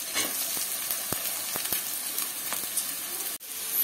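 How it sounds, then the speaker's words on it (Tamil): Onions, beans and carrot sauté over a high flame for cauliflower fried rice, giving a dense, continuous sizzle with a few spatula taps and scrapes and a brief dip near the end. "வெங்காயம் வதங்கட்டும்"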